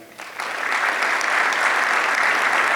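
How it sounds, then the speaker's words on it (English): An audience claps through a mayor's annual State of the City address in 2020. The applause comes in loud and steady after a brief quieter start and fills the whole moment on its own. "you should give her a bigger round of applause"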